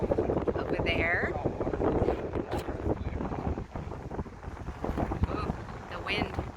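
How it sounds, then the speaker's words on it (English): Wind buffeting the microphone on a boat touring past the Old Town waterfront of St. Augustine, a steady rumbling roar throughout, with people talking over it. "Ooh, the wind."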